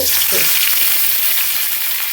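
Coconut oil sizzles hard in a pan, a loud, close, unbroken hiss of spitting oil with fine crackle throughout.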